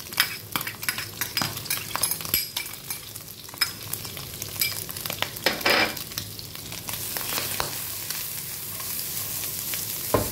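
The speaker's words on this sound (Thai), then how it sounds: "พอผัดลงไปกับน้ำมันหมูนี่คือหอมมากนะครับ" Chopped Chinese garlic stir-fried in pork fat, a close sizzle broken by frequent sharp scrapes and clinks of a utensil against the pan.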